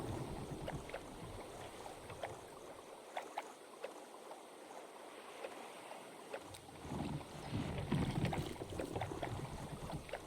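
A boat moving across water in Minecraft makes a soft, continuous watery wash with faint splashy ticks, quiet and steady, swelling slightly toward the end.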